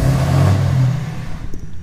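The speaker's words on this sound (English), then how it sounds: "Alright, so truck's on." RAM 2500 pickup truck engine revving close by, a loud throaty rise that holds briefly before falling away to a quieter idle with faint clicks at the end.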